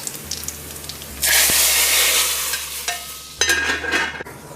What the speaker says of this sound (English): The oil is hot. I'm going to add the jeera and garlic.